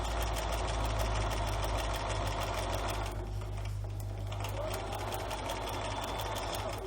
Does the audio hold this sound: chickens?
no